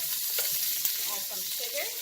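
Garlic sizzles steadily in a hot pan while a utensil stirs it, with a close, constant frying hiss and light scraping and clicking from the stirring, and no voices.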